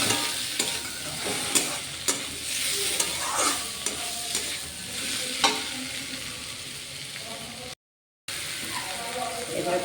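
Chicken kosha with garlic and chopped tomato stirred and frying in a pan: steady close sizzle with repeated scraping stirs throughout, then a brief silent gap before the cooking resumes.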